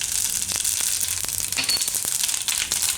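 Cumin seeds sizzling and crackling in hot oil in a pan, a steady close frying hiss with scattered sharp pops, no voices.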